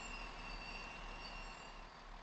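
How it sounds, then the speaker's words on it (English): Train brakes squeal faintly with thin, high-pitched screeching tones over a steady low rumble of the train, distant and continuous throughout. "Yes, that's the sound of the train."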